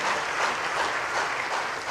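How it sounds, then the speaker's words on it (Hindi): A crowd at a religious gathering claps for a girl who asked a question, a brief, dense and steady burst of hand claps filling the space. "ताली बजाओ इस बच्ची के लिए"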